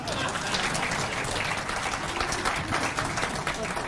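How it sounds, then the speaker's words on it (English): Steady audience applause at a pension scheme annual general meeting, dense clapping filling the hall evenly for several seconds without letting up, with some voices mixed faintly underneath. "I always request for a clap."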